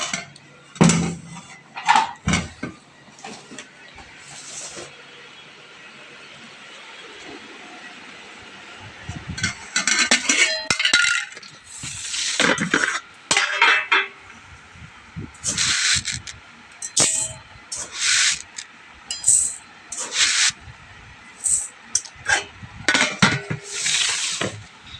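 A metal cooking pot is handled while rice is set on to cook, producing scattered clanks, scrapes and clatters in irregular bursts, close by, with quiet gaps between them.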